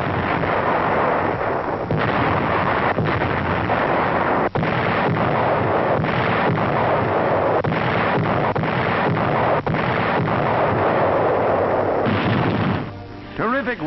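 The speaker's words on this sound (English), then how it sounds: "Strategic airfields are the objectives as the great fleet's guns open up." Naval fleet guns pounding shore targets during the Okinawa landings, a dense barrage of heavy booming blasts rolling continuously at loud volume, heard through old, band-limited archival sound.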